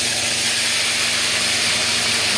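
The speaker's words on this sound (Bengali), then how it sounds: "ভালো করে পেঁয়াজটাকে ভেজে নিতে হবে সুন্দর করে, যাতে জল না থাকে।" Onion paste frying in a pan for prawn malai curry, a loud continuous broadband hiss and sizzle with steady steam-like texture, close and unbroken, no voices.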